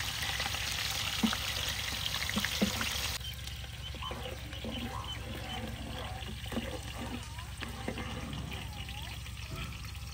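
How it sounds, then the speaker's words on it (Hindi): Onions fry in a pot with a soft, steady sizzle and crackle, a continuous bubbling hiss with small pops and stirring, heard close and fairly quiet. "प्याज को गोल्डन ब्राउन होने तक फ्राई करेंगे।"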